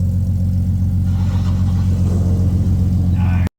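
An Infiniti M37x fitted with a Stillen exhaust idles and revs right after starting, a loud, steady deep rumble close to the pipes with a brief rev near the end.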